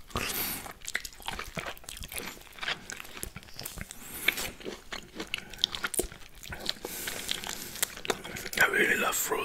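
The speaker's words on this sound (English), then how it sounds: "Today I have orange slices and mango. Let's start and enjoy the sounds." Close-up crunching, biting and wet chewing of juicy orange slices and mango, with soft crinkling in between, steady and near throughout.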